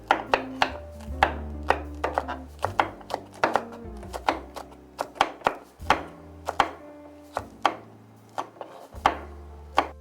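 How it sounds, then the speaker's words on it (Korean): A knife slices chili peppers on a cutting board, giving a rapid, even series of crisp chopping taps, close and distinct, with no talking. "다음에는 고추를 썰겠습니다."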